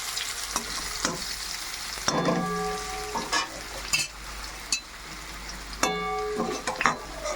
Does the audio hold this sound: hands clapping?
no